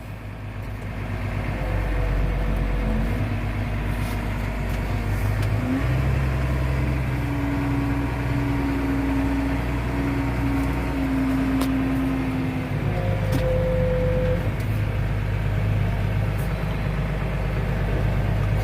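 A truck engine labors at a low, steady drone as it is driven up onto a trailer, with shifting tonal whines and a brief change in pitch partway through, continuous and fairly close.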